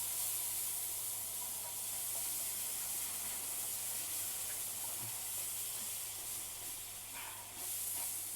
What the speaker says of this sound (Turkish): Şimdi şey şerbetini ilave edeceğim.